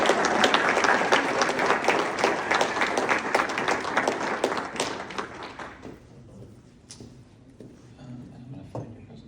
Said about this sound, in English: let's give a huge round of applause to Jordan Hatley as she makes her way up here